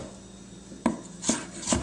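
Knife slicing gobo (burdock root) at an angle into matchsticks on a cutting board, three crisp close chops spaced about half a second apart after a quiet start, with no talking.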